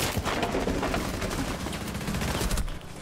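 Rapid gunfire bursts from a game, dense and continuous for about three seconds, with overlapping shots and no talking.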